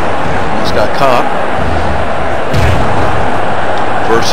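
An atomic drop lands in an MDickie online wrestling match, a heavy thud amid constant crowd roar and a commentator talking throughout, followed by further dull impacts.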